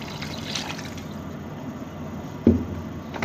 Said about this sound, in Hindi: 1 गिलास हम पानी डाल देंगे इसमें